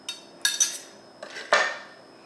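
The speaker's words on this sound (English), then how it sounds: "I think I need to stir it. I'm gonna give it a stir." A utensil stirring food inside a container, with a few distinct metallic clinks and scrapes in separate clusters, close and fairly quiet, with silence between them and no talking.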